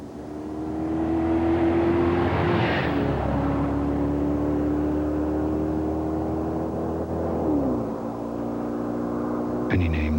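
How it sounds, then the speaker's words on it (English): A performance car with a 250-horsepower, 4-cam, 32-valve V8 drones loudly at steady revs. The engine note climbs, then drops sharply as it shifts, and a brief higher whine follows near the end. "Imagine for a moment a performance car. One with a 4-cam, 32-valve, 250 horsepower V8."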